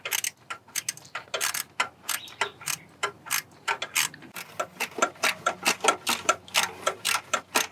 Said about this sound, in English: So get it connected here, and then just start ratcheting it.